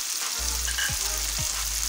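Salt, crushed chilli and turmeric frying in hot oil for a rajma and lobia kidney bean curry: a steady, close sizzle with two dull thuds of a spoon against the pan.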